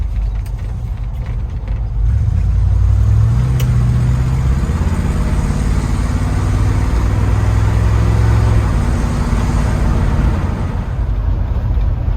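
A 1978 Ford F-150 Ranger pickup's engine runs steadily and loud throughout, a low rumbling drone from the moving truck with no talking.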